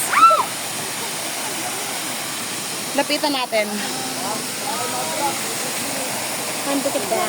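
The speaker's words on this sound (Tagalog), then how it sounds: "Ayan na yung falls!" Steady rushing hiss of a waterfall in a natural setting, constant in the background while people talk and exclaim over it.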